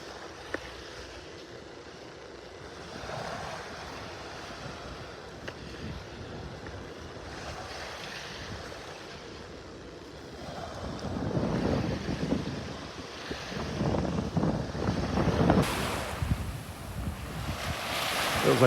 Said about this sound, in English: Feels like that wind's shifting around now, coming out of the southwest, or southeast